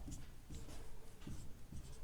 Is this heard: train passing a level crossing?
no